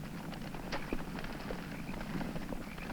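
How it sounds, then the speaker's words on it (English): Muffled hoofbeats of many riders' horses approaching thud in an irregular, overlapping rhythm, moderately distant and steady, with no talking. "Many riders come."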